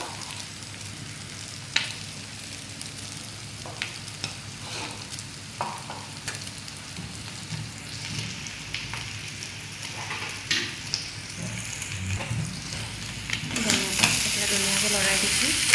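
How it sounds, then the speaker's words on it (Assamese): Pieces of pork belly curry being stirred as they fry in a pan, a continuous soft sizzle broken by scraping and clinking stirs that grows louder and hissier toward the end. "ধুনীয়াকৈ লৰাই দিছোঁ।"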